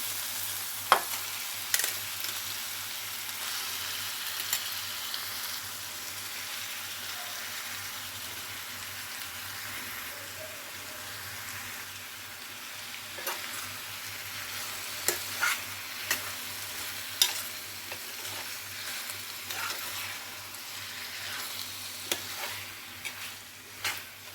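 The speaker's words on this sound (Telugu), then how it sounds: "ఇప్పుడు మనం కడిగి శుభ్రంగా పక్కన పెట్టుకున్న రొయ్యలు వేస్తున్నాము" Washed prawns fry in a pan for prawn curry, sending up a long continuous sizzle like rain, broken by scattered pops and occasional scrapes of the stirring spoon. It stays close and steady throughout, with no voices.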